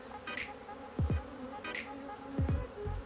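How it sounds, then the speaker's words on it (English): Honeybees buzz faintly around a hive frame, with a soft, steady hum broken by a few brief, sharper passes close by. "So it looks like they're starting to get on this frame right here."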